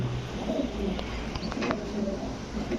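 Low, soft pigeon cooing repeats under steady background noise at a pigeon farm, with a few sharp clicks and rustles scattered through.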